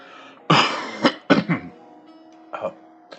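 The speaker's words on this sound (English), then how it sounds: "I just cough to clear my throat sometimes" Several harsh coughs and throat clearings come in quick bursts, close to the listener, separated by short pauses with no talking.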